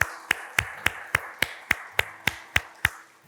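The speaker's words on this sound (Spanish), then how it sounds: "Dele un fuerte aplauso al Señor, por favor." Slow, evenly spaced claps during a church service, about ten sharp hand claps in a steady rhythm, close and clear against a quiet background.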